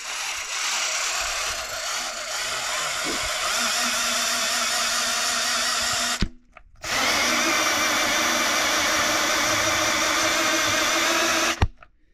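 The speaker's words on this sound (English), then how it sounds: "I got the drill on here." A power drill whirs steadily at high speed, stops briefly, then starts again and runs until it cuts off.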